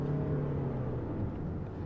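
A 2024 Lexus LM 350h Takumi hybrid under full throttle gives a low, steady engine drone with a faint whir, heard from inside the cabin at moderate level without speech.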